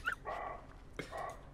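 Deer barking in the video game Meadow, two short sharp dog-like barks with a rough, nasal tone, heard fairly close and alone.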